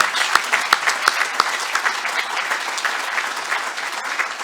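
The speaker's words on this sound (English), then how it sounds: "So if we could all give them a round of applause." Round of applause at a Rotary club meeting, a close, steady roomful of clapping with crisp individual claps standing out early and continuing without talk.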